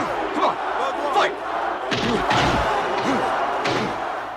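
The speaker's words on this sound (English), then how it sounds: "The punches themselves sound louder than usual." Punches land in the Rocky IV boxing fight, heavy booming thuds repeating at close range over crowd noise and shouts.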